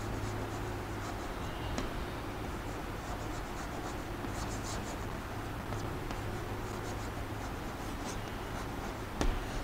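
A pen scratches steadily across paper as a question is written out, producing a continuous soft rasping that is close and moderately loud with no talk.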